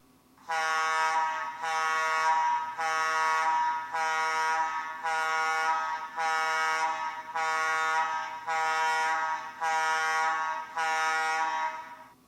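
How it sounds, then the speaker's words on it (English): Gas plant combustible gas alarm blaring in loud, evenly spaced air-horn pulses, about nine bursts, each roughly a second on and half a second off, harsh and buzzy. "The combustible gas alarm sounds like this."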